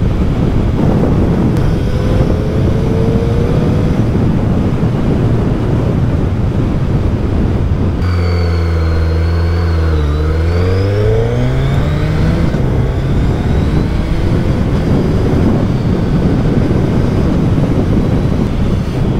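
A Suzuki Hayabusa motorcycle being ridden, its engine drone rising and falling through gear changes under constant heavy wind rush, loud and continuous from the rider's position, with no talking.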